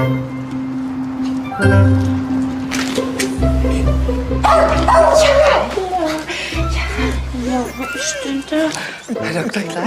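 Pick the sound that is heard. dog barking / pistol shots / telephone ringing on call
dog barking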